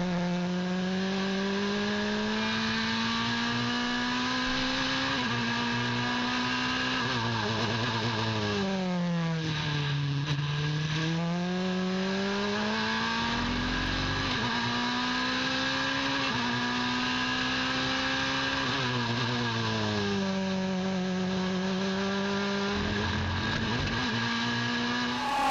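A prototype race car engine drones steadily at high revs during an endurance race at Barcelona, pitch climbing and dropping as it shifts gears and brakes through corners, heard from on board.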